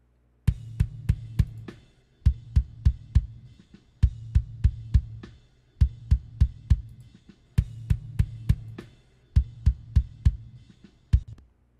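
A processed kick drum with its high end rolled off and low end boosted thumps in a repeating pattern of short bursts, deep and punchy, with brief gaps between groups and no other sounds.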